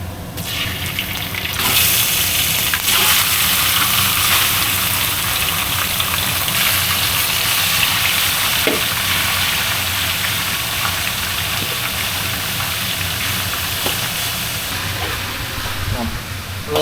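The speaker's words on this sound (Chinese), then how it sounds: "爆香那个蒜米" Minced garlic sizzles in hot oil in a wok, a loud, steady hiss and crackle that runs without a break as it is stir-fried.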